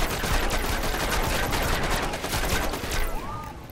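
An enemy in a video game fires a large gun in a sustained machine-gun burst, a dense, loud stream of rapid shots that rolls on without pause before easing slightly at the end.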